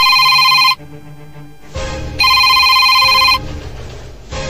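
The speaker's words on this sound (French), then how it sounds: "Le téléphone t'y dérange, hein?" A telephone bell rings in two loud bursts separated by a pause, with background music and ambient noise filling the gaps, in a French-language football comedy film.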